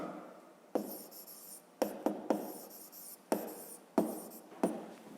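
A pen scratches on paper while a fifth-grade geometry exercise is written out by hand, quiet rubbing strokes broken by sharp taps at irregular intervals, close and alone with no voices.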